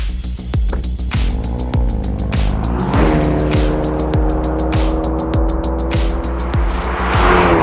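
A turbocharged 2022 Hyundai Elantra N sedan with a 6-speed manual driven on a track, its engine note rising and falling between shifts under repeated sharp clicks, close and loud, with tire squeal.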